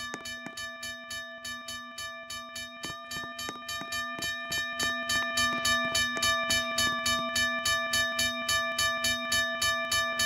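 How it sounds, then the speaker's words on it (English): A Western Railroad Supply mechanical bell at a railroad crossing rings in a fast, even strike pattern, each ding clear and ringing, growing slightly louder and continuing steadily throughout. "the bell is a Western Railroad Supply mechanical bell. Let's have a listen to this crossing in action."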